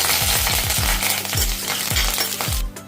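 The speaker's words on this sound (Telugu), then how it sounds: "తాలింపు వేగింది" Lentils, cumin, fenugreek and curry leaves crackle and sizzle in hot oil in a kadai, with loud spattering pops and a few metallic clinks of a spoon against the pan, ending abruptly.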